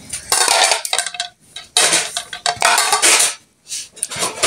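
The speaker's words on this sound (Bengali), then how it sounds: "আর এখানে ভাতের পাতিলা এনে দিচ্ছি।" A metal rice pot and serving spoon clatter and clank in several loud, close bursts separated by brief pauses.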